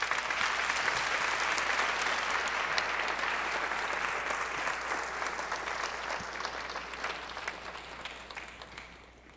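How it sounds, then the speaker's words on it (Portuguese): A concert audience applauds a singer and her accompanying band with a percussionist. Thick, sustained clapping from many hands fills the whole stretch, fading slightly toward the end. "Aplausos, por favor."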